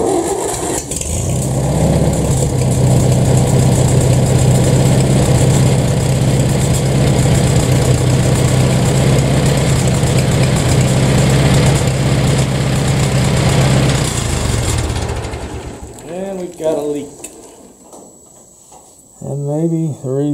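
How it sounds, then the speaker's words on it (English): A 1966 International 404 engine cranks over and catches, then settles into a loud, steady, close idle for about fourteen seconds before cutting off, followed by someone speaking near the vehicle. "Now, let's crank her up."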